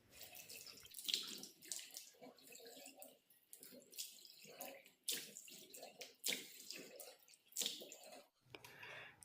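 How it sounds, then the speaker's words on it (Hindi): Cold water splashed by hand onto the face on a winter morning in Uttarakhand: a run of quick, fairly faint splashes and trickles in irregular bursts, with no talking. "तो बस यहाँ पे पहले फटाफट से ठंडे पानी के छींटे मारूंगी।"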